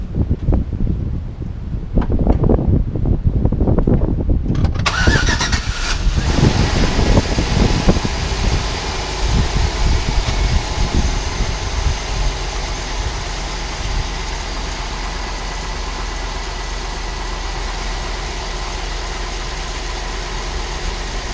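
Chevrolet Tahoe engine cranking and catching after a brief rumble, then settling into a steady low idle that runs on evenly, with some wind buffeting the microphone.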